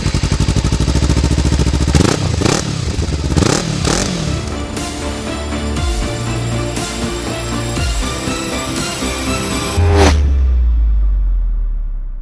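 A Kawasaki Z300 motorcycle, a naked version of the Ninja 300, rides past loud and close, its engine revving through several quick rising bursts before settling into a steady drone that swells again near the end.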